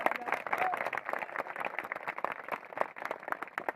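Applause and crowd noise greet a state MLA at a village panchayat event in Manda, a dense spread of clapping mixed with voices, moderately loud and steady throughout.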